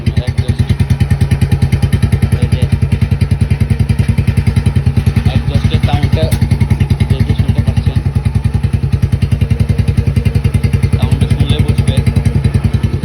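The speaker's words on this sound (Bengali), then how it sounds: "তারপর হচ্ছে একজস্টের সাউন্ডটা" Exhaust of a motorcycle thrums loud and near in a fast, steady, unbroken pulse, holding an even idle-like rhythm throughout with faint clatter on top.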